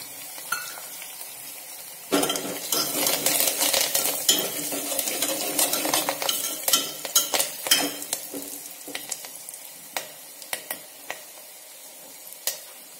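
Peanuts and curry leaves stirred in a hot pan, with a sudden sizzle followed by repeated scraping and clinking of a spoon against the metal, close and busy throughout.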